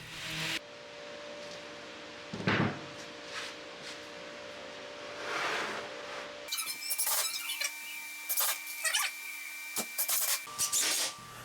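A wooden top piece for a mobile bar cart being hand sanded, with soft, steady scratchy rubbing strokes heard close up and alone, and a brief pause between passes.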